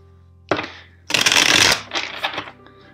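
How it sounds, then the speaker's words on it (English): Tarot cards are riffled and shuffled in quick, crisp bursts, one short flick followed by a longer rustling cascade, close to the listener. "let's shuffle the deck four times for you."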